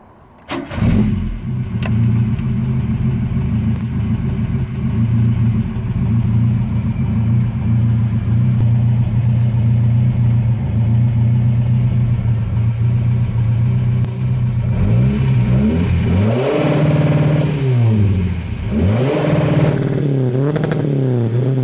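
Ford Capri engine idling steadily after starting, then revved repeatedly up against an Omex rev limiter, the note rising and cutting back in sharp, stuttering bursts; loud and close with no talk.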